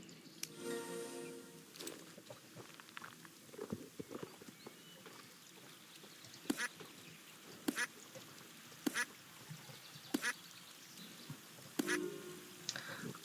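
Ducks quacking in the horse-riding video game Star Stable, a series of short distinct quacks spaced a second or so apart over a quiet background, with faint rustling and chatter early on.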